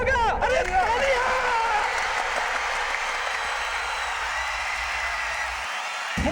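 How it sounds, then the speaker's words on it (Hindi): An audience at a wrestling bout bursts into loud, sustained applause, dense clapping mixed with crowd hubbub and cheering that carries on for several seconds before cutting off abruptly. "अरे तालियां!"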